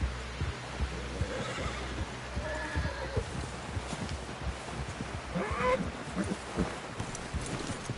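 A horse whinnies and snorts amid steady clip-clop hoofbeats while riding into camp in the Red Dead Redemption video game, the neigh rising midway over a rumbling background with distant voices.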